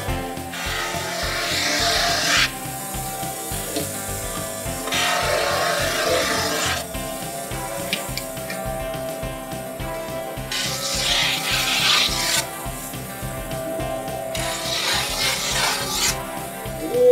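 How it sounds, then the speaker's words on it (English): A snowboard's metal edges are ground with a tool at a ski shop, giving a steady rasping scrape in repeated strokes, close and fairly loud, with pauses between passes and no talk. "He's gonna take the snowboard and grind the edges."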